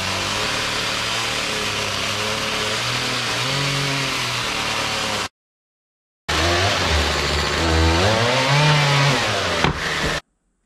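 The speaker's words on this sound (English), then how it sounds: "It's really annoying to control the chainsaw at this angle." A loud chainsaw engine drones and revs under load cutting a log, cuts out for about a second of silence, then roars back and surges again.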